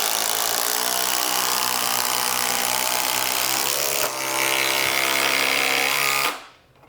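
Milwaukee M18 Fuel brushless power tools whir at full speed in a steady, loud high-pitched motor whine, briefly shifting pitch midway, then cut off abruptly near the end and spin down to quiet.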